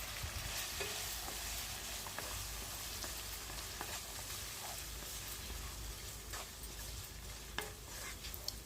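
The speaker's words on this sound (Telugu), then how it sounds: "వేసుకుని వీటన్నిటిని ఇలా ఒకసారి కలుపుకుందామండి" Tomato, onion, turmeric and salt are stirred together in a hot pan, giving a steady sizzle throughout with repeated scraping strokes of a spoon against the metal, close and fairly loud, with no talking.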